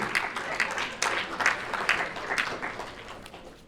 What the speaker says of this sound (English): a round of applause for Bones, our auctioneer